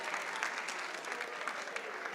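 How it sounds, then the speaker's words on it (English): Audience applause at a high school safe-driving assembly, a steady wash of many hands clapping, moderately distant and fairly even throughout, with no clear voices on top. "Give Ms. D a round of applause."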